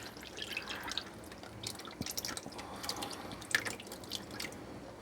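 Homemade elderberry syrup dripping through coffee filters set in a strainer, irregular small drips and splashes close by, with occasional louder plops over a quiet background.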